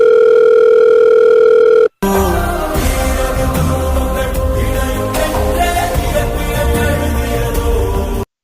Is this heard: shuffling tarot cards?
no